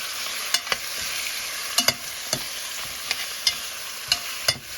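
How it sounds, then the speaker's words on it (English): Chicken stew with salt and seasoning frying down in oil in a pot, a steady close sizzle broken by sharp clicks and scrapes of stirring at irregular intervals. "you want this to fry down, coming down to the oil"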